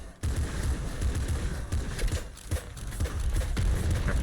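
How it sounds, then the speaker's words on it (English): Rapid, dense volleys of grenade shotgun fire from the video game Nuclear Throne, bursts of popping blasts following one another almost without pause, loud and close throughout. "Grenade shotgun once again."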